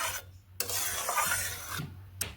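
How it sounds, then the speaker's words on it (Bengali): A spoon stirs garam masala powder into a pumpkin curry in a pan. It makes a close, continuous rubbing and scraping sound in two long strokes, with brief pauses at the start and end and no speech. "নেড়ে নিচ্ছি এইভাবে গরম মশলা গুঁড়োগুলোকে মিশিয়ে নিচ্ছি"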